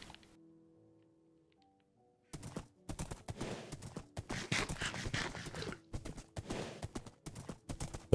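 Horse hooves clip-clopping in the video game Minecraft Earth, a quiet musical stretch giving way to rapid, loud, irregular clopping bursts that continue to the end.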